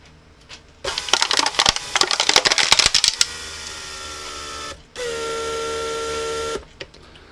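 A Mercedes W140 central door lock pump runs in two stages: first a buzzy, rattling pressure cycle with clicks, then after a short pause a steadier, higher-pitched hum for the vacuum cycle, close and fairly loud, with no talking.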